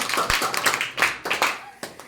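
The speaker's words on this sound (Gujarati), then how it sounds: "જોરદાર તાળીઓના ગડગડાટથી વર્ષાબેનને વધાવી લઈએ આપણે." A small group applauds the winner of a balloon-and-cup party game, with scattered sharp individual claps in uneven bursts, close by and mixed with voices talking.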